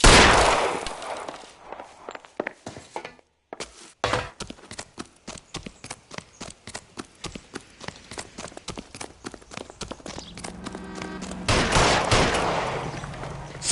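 Rapid gunfire rings out in the L.A. Noire video game on PS5, a dense run of sharp, evenly spaced shots cracking nearby for several seconds, with a heavier rumbling burst near the end.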